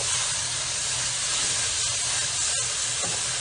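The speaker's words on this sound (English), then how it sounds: "I'm gonna pour the barbecue sauce in" Barbecue sauce poured into a hot pan over browned sweet potato pizza toppings gives off a steady, loud broadband sizzle and hiss, with a couple of faint clicks near the end and no talking.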